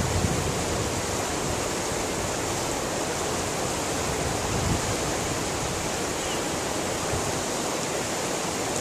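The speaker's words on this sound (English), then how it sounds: "Listen to this, River." A river rushes past in a continuous broadband roar of flowing water, steady and fairly loud from start to finish, with no talking.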